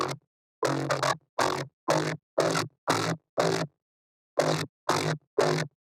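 Resynthesized synth melody built in Harmor, a series of short, evenly spaced staccato notes with a brief pause before the last three, clean and dry with no other sounds.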